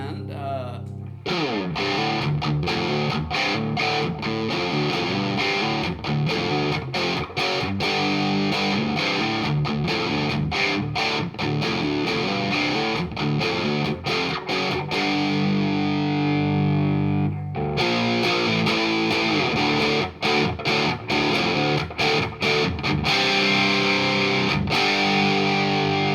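A Wangs HD 15 guitar amp with the distortion channel's gain turned all the way up plays heavily distorted, saturated riffs, loud and continuous with choppy stops, a short pause midway, then more playing.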